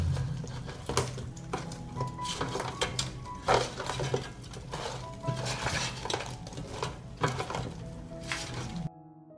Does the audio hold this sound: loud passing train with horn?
no